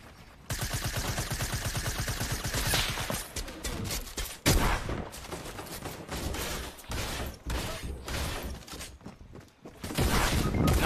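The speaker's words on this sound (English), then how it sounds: "There's someone shooting at me, just FYI." Rapid gunfire from another player crackles in bursts through a busy shooter match, loud and dense, with brief pauses between volleys and no talk over it.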